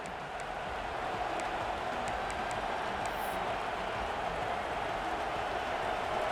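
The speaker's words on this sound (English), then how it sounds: "this crowd rising up, sensing that its defense needs some help" Stadium crowd cheering in the College Football 26 video game, Purdue playing at Washington; a steady, broad roar of rising crowd noise holds for several seconds, with faint bright whistles above it.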